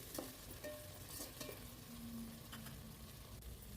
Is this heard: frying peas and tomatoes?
yes